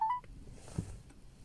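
A phone number is dialed on a telephone in a village house, giving a brief keypad tone at the start followed by a faint room background.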